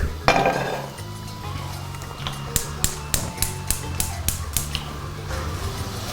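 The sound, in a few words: pan being put on the stove for steak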